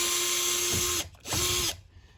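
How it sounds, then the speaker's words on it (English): A power screwdriver or drill whirs in two short bursts while removing screws from a television being scrapped for parts, close and fairly loud, with a ratcheting mechanical edge and brief pauses between. "I just unscrew every screw that I see"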